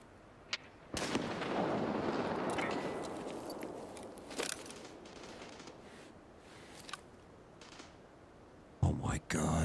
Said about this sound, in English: Somebody's shooting at it.